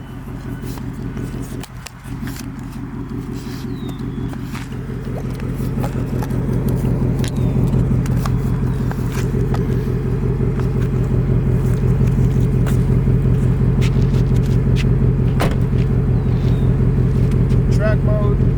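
A 2024 Ford Mustang GT Premium with performance pack idles and revs in track mode, a deep steady exhaust rumble that swells louder after a few seconds and holds, with someone talking over it.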